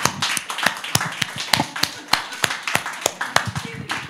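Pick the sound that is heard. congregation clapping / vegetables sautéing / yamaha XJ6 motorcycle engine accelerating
congregation clapping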